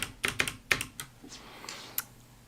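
Keys tap on a Bluetooth keyboard paired with an iPad, giving a quick cluster of crisp clicks followed by a few scattered, softer keystrokes close to the mic.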